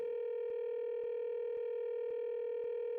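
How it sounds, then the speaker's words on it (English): A steady telephone dial tone plays in Danganronpa 2 after a grape-shaped phone is pressed, broken by short regular clicks every half second or so, alone with no voices. "Sounds like it's connecting to somewhere, but no one's picking up."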